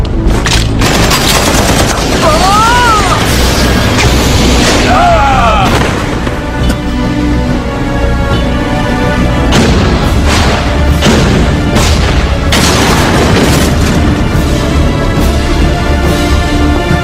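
Loud, dense gunfire and heavy booms in an animated series, continuous and intense throughout, with whooshing effects and a dramatic musical score layered on top.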